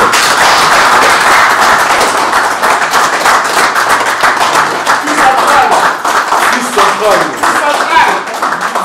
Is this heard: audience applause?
yes